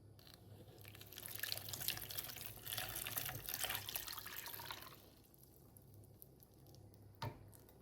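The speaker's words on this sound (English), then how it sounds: "So let's go put some water." Water runs from a tap into a container for a sprout kit, a steady trickling splash for about five seconds that then drops away to faint drips and a brief knock.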